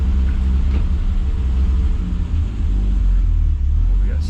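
A Triumph GT6 engine runs with a steady, loud low rumble that holds throughout, as if heard from inside the moving car while it shifts gears, with no clear revving peaks.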